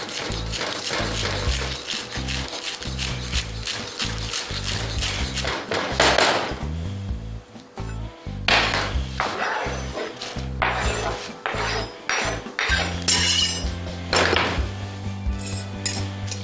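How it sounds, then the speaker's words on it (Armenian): Spinach and mint greens are chopped very finely on a board, a fast steady run of sharp knife thuds close up, broken by short pauses between bursts, with no voices. "շատ մանր կտրատում ենք"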